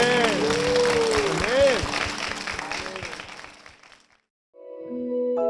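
Clapping from a church congregation under music and a singing voice, the applause fading out toward the end before a short musical tone starts.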